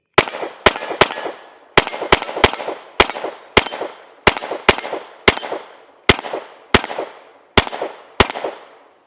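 A Taurus TX22 pistol fitted with an Olight SE weapon light fires roughly seventeen sharp, loud shots in quick irregular strings, each crack followed by a brief ringing decay, with no talking.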